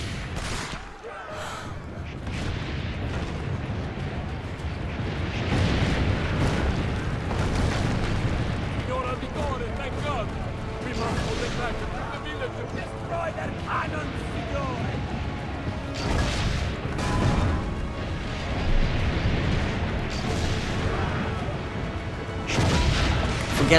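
Cannon fire and explosions rumble through a battle in the game Assassin's Creed Brotherhood, with dense booms and crashes over a continuous roaring din, and someone talks over the action.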